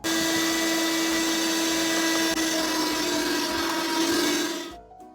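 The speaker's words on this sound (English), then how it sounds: "I used a sanding block to even everything out a bit" A sanding block smoothing the walls of a miniature dollhouse made with real materials gives a steady, loud, continuous abrasive whir that runs unbroken for several seconds, then stops abruptly near the end.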